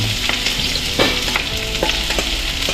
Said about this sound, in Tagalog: Kumuha lang tayo ng konting mantika. Gisa-gisa lang muna natin ito.